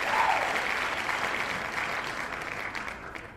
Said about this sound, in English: Stop applauding.